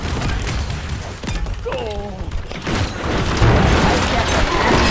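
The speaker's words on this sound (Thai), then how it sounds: "ระวังระวังระเบิด" Explosions and weapon blasts from the team shooter Paladins, several booming hits and crackling fire with a brief rising ability effect, while players talk excitedly over the action.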